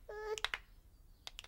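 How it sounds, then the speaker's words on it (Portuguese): Finger snaps heard alone, a quick cluster of sharp clicks after a brief tone, then two more snaps about a second later. "quero que batam palmas comigo enquanto eu dou um estalido com os dedos"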